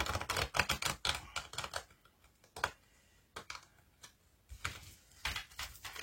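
A Michelangelo tarot deck shuffled by hand, quick clustered bursts of card flutter and slaps coming in several separate runs with brief quiet pauses between them.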